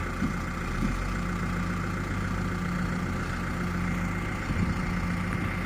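A heavy tractor engine idles steadily, a low continuous rumble with a droning hum, unchanging throughout and with no one speaking.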